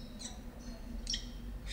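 Little bird in a game, chirping in three or four short, high, thin calls spread over a steady low electronic hum.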